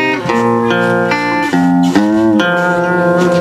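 A guitar lick played at speed, with string bends and vibrato on sustained notes that slide between pitches, clear and close, ringing steadily throughout with no talk.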